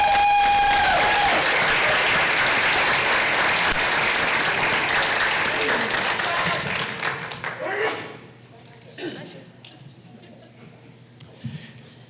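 Board of education meeting audience applauding high school students, loud sustained clapping that thins out and fades to a few scattered claps and quiet room noise near the end.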